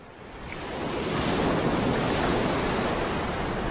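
Violent surf pounding the coast of a lagoon, a loud continuous roar of breaking waves and rushing water that swells in the first second and then holds steady, with no voices.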